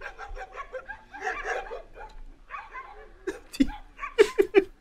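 Muffled talk and chatter at first, then a few sharp dog barks at a motorcycle in quick succession near the end, in Chile.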